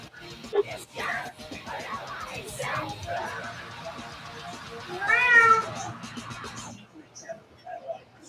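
A cat meows several times over about eight seconds, with one drawn-out, wavering cry toward the end, while a person talks nearby.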